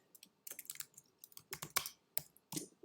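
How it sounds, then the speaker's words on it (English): Close, quick keystrokes on a computer keyboard come in irregular bursts of clicks separated by short pauses, with no voice heard. "can't type today"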